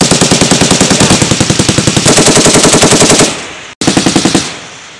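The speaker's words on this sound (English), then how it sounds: "1 more 5-round burst!" Machine gun firing repeated bursts at military weapons training, loud and close, rapid evenly spaced shots running nearly continuously with a brief break near the end before firing resumes.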